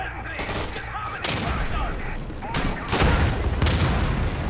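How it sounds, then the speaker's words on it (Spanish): A rocket blast booms in the Day of Infamy battle game's Dunkirk invasion, amid a dense rumble of explosions and gunfire that swells toward the end. "qué buen cohete ese"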